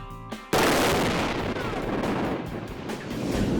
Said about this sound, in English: Low-speed explosives like dynamite and ANFO, they have a much throatier thud.